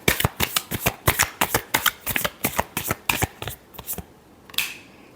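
Tarot cards are shuffled by hand in a rapid series of crisp riffling bursts, about a dozen close, even strokes that slow and thin out toward the end.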